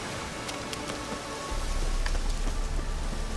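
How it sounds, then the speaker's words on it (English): Rain falling in the Witcher 3 video game, a steady hiss of drops on surfaces that thickens into a heavier, fuller patter halfway through. "Looks like rain."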